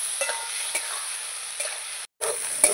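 Spices being sautéed with vegetables in a pan for a tilapia and green banana curry: a low continuous sizzle with a few light scraping stirs, one brief silent gap, then the frying resumes.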